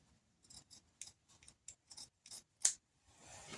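Scissors snipping material for a small dollhouse miniature bed, a series of about ten short, quiet crisp cuts in irregular rhythm, close and alone, ending in a soft rustle.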